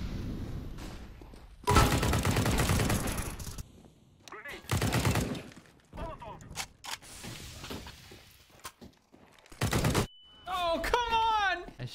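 Loud bursts of automatic gunfire in a bomb-planting first-person shooter game, several short rattling volleys spread through the scene, mixed with clanks and a voice speaking between shots.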